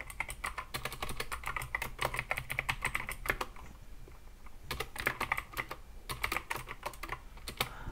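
Rapid keystrokes on a computer keyboard while code is written, in close, busy bursts of clicking with a brief pause near the middle before the typing resumes.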